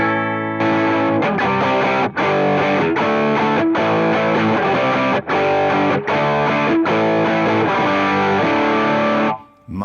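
Electric guitar played through a simulated T-Rex Mudhoney distortion pedal in AmpliTube 5 with the gain turned up almost fully, giving thick, saturated strummed chords and riffs with short gaps between phrases, loud and alone.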